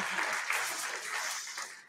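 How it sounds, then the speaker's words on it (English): Lecture audience applauding a man at the back of a hall, a dense, even patter of many hands at moderate volume throughout. "Can you give the man a round of applause at the back there"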